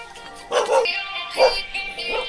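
A small dog barks near the Binday Dam in the Philippines, giving three or four short yappy barks spaced over a couple of seconds, close and clear.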